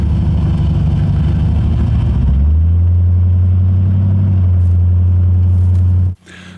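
A light vehicle with a stock Land Rover engine of about 200 horsepower and an automatic gearbox rumbles loudly up close. The engine tone rises into a deep, steady drone as it pulls away, then cuts off abruptly near the end.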